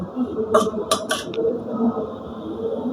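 Metal spoon scraping and clinking against a cooking pot while beef and spices are stirred together in a village kitchen, a few bright clinks over a low, steady background rumble.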